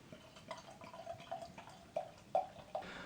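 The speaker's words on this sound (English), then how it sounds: "take the cap off and then pour it blind" Beer poured from a capped, corkless bottle, likely a barrel-aged sour from Monkey Brew, glugging and splashing in quick irregular bursts that grow louder toward the end, close by with no talking.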